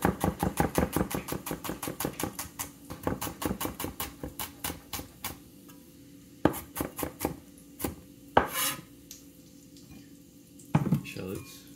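Knife rapidly chopping a tiny shallot on a cutting board for fried rice, a fast run of sharp close taps that slows into scattered single cuts, with a few louder knocks near the end.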